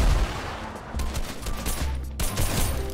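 Gunfire in a Fortnite match, a short loud volley of rapid shots crackling over in-game background noise, with no talking.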